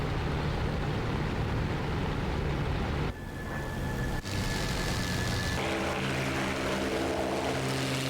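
Bf 109 fighter engine droning steadily in the DCS flight simulator, a continuous loud propeller roar with a brief dip in the middle and a shift in tone near the end.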